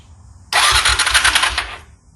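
A 2005 Honda Shadow Spirit 750 motorcycle with idle trouble after breaking down cranks and catches in a sudden loud burst, sputtering for just over a second before fading away.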